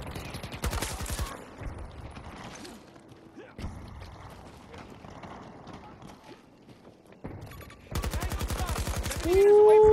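Gunfire in the video game Battlefield 2042: rapid automatic bursts, loud and close, in two sharp volleys at the start and near the end, separated by quieter stretches of speech.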